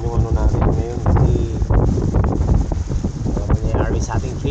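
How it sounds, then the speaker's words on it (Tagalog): Strong wind buffets the microphone at a fishing spot in Baseco, a steady loud rumble that runs the whole time, with a voice faintly audible underneath. "hindi natin magagawa dahil malakas yung hangin"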